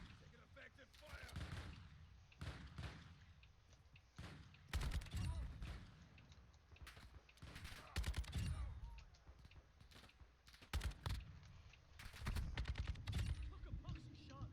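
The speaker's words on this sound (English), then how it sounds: "Taking effective fire." Incoming gunfire in a video game, with loud bursts of rapid shots and single cracks arriving in uneven clusters while a player talks between them.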